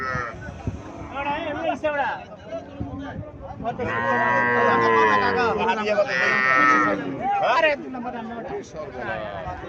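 A Haryana cow moos loudly and at length at a weekly cattle market, with a drawn-out close low and shorter calls, while people talk and murmur around it.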